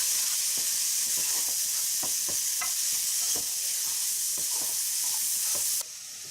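Shrimp stir fry with soy sauce and brown sugar being stirred in a hot pan: a steady close sizzle with repeated scraping strokes of the utensil in an even rhythm, no voices.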